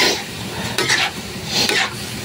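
A spoon stirs chicken intestine adobo in a pan, with repeated scraping strokes over a soft sizzle, close and fairly loud.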